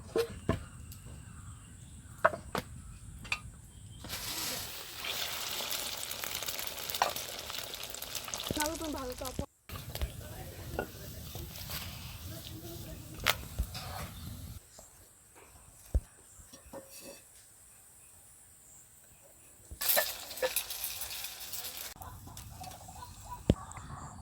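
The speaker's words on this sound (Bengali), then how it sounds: "পরোটাটা ডিমের সাথে গুলিয়ে এবার তেলে ভেজে নেব।" Egg-coated paratha sizzling and frying in hot oil, a steady crackle with brief louder bursts and a few clinks, close by with no talk.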